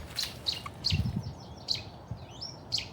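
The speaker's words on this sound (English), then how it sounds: "Chetty's warbler right next to me." A Cetti's warbler sings very close by in loud, abrupt bursts, short explosive phrases repeated between pauses, with quieter birds calling in the background.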